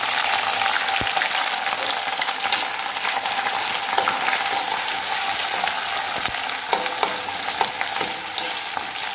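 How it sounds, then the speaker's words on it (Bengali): Onions frying in a pan with cinnamon, cardamom and cloves for a restaurant-style chicken and potato curry, a steady dense sizzle throughout with occasional faint stirring clicks, close and alone. "পেঁয়াজটা একটু লাল করে নেব"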